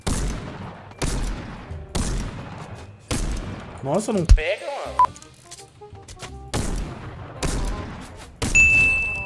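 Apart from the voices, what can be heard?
gunfire in Fortnite video game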